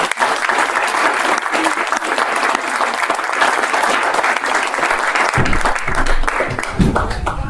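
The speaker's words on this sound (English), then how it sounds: "let's just give a round of applause to Rabbi Yehuda Glick." Loud, sustained applause from a large audience fills the whole stretch, with steady clapping and crowd noise throughout.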